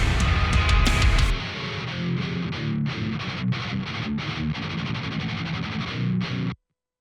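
A heavily distorted electric guitar through a free amp plugin plays chugging, palm-muted riffs with sharp rhythmic stops, loud and close, ending abruptly in silence.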